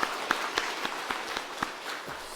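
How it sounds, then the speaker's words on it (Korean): A church congregation claps in a steady, moderate rhythm, with individual sharp hand claps standing out over a soft wash of applause in a reverberant worship hall. "우리 박수 한번 해주겠습니다."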